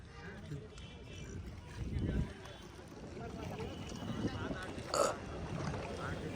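A boat ride on Nainital lake carries a soft, steady wash of water and wind noise, fairly quiet, with a couple of brief louder swells and faint voices in the background.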